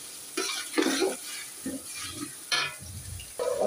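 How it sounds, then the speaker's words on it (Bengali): Garlic and ginger paste fries in a pan, a sizzling hiss swelling in bursts as the paste is stirred and scraped, close and moderately loud, with quieter gaps between stirs. "রসুনটা ভালো করে ভেজে নেব। আদা বাটা দিয়ে দিলাম, ভেজে ভালো করে কষিয়ে নেব।"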